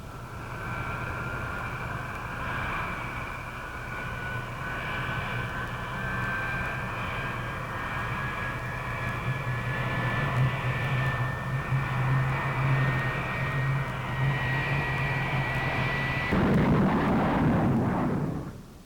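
A jet aircraft diving from 45,000 feet gives a long, steady engine roar with a slowly rising whine, then a sudden louder rumbling burst near the end as the sound catches up at pull-out.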